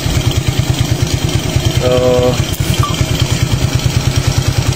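Suzuki Raider J Pro motorcycle engine running with a misfire, a loud, close, uneven putter with irregular beats, joined briefly by a steady tone midway, with a voice saying a single word.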